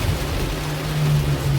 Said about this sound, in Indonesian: Hujan panas.